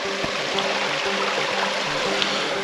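A creek flows steadily at a steep bank in the woods, a constant close rushing and gurgling of water with no breaks and no voices.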